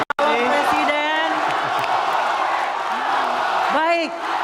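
Broad, steady applause from a debate hall audience for the presidential candidates at Indonesia's second presidential debate, with whoops and shouts rising over it. The clapping stays loud and dense throughout.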